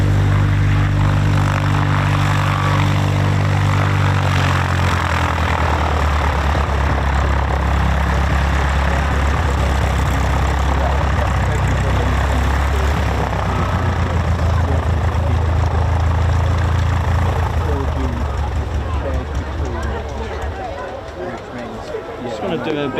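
WWII Avro Lancaster 'Just Jane' and a Mosquito running their piston propeller engines on a taxi run at RAF East Kirkby, a loud, close, continuous droning roar whose pitch shifts, easing off slightly near the end.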